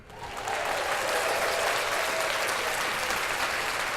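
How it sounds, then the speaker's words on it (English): Steady applause swells up quickly and holds as a dense, bright patter of many clapping hands, fairly loud and close, continuing without a break for several seconds. "Let's clap that up."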